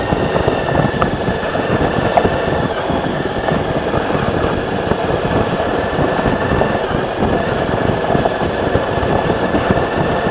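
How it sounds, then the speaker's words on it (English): Scooter cruising at 25 mph on a gravel road, carrying a rider on the back seat, with a steady, close rumble and constant wind buffeting throughout and no talking. "Cruising along, 25 miles an hour on gravel."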